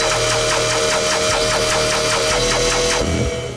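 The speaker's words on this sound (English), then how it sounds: "Oh, it's a sustain. It's a sustain bass." Sustained sub bass from a dubstep tearout track drones under a busy, rhythmic mid-range pattern, loud and continuous, with the texture thinning briefly near the end.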